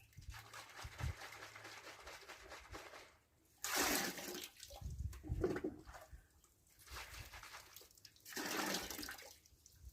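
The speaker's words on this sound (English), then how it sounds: "And then I'm going to run the water through that sprayer." Water sprays and hisses in bursts from a YATTICH paint sprayer nozzle nearby, with quieter gaps of trickling between the louder surges.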